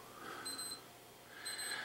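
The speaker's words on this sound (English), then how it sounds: "there's my alarm that says the sun's going to come up" Alarm clock beeping at sunrise: two short, high, electronic beep bursts about a second apart, faint and close, with no talking around them.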